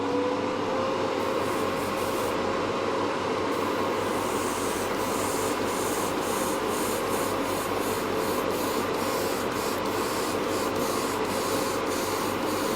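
A paint spray booth runs with a steady loud mechanical whir and hiss, with faint rhythmic ticking pulses in the upper range throughout.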